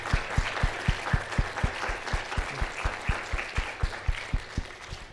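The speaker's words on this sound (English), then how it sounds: "Let's all give Yeah. Major applause." An audience applauds after an art history lecture, with continuous crowd clapping and a close, regular thump of one pair of hands beating a steady rhythm above the wash.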